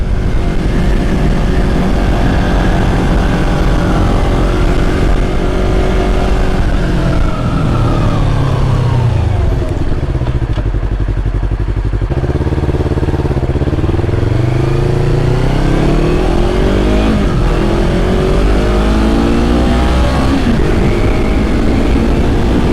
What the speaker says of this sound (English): So I'm hearing a lot of wind.